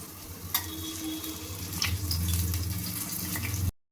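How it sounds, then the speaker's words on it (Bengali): Moong dal pakoras deep fry in a pan of hot oil, a close, continuous bubbling hiss with occasional sharp crackles and a brief stir, building slightly louder before cutting off abruptly. "এইভাবে লাল লাল করে ভেজে নেব সমস্ত পকোড়াগুলো"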